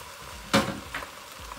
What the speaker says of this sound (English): Let's add the ribs back to the Dutch oven and all of those juices.